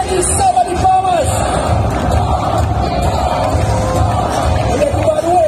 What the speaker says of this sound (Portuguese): Jean Bergamini, grande salva de palmas.